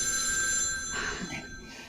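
A telephone rings at a hotel front desk at night, a clear bright electronic ring sounding close and loud, then tailing off.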